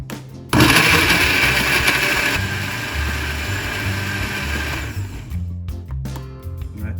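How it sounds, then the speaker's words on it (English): A blender blitzes wild leeks and fiddleheads, whirring loudly and steadily for several seconds, its motor roaring with a grinding churn, then cuts out abruptly near the end. "Just going to toss all this stuff inside the blender and then give it a blitz."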